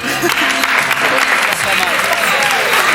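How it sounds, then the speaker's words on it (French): A TV studio audience applauds loudly and steadily for three seconds, dense and close, with voices faintly underneath. "On l'applaudit encore."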